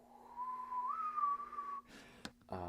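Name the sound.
whistling imitating wind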